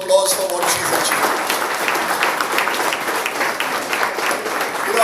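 An audience at a launch event breaks into loud, sustained applause, dense clapping from a large crowd filling the whole stretch without pause.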